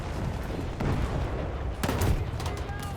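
A tank cannon firing in the War Thunder video game, heard as a sharp, loud blast followed by rumbling reverberation and scattered lesser battle noise behind it.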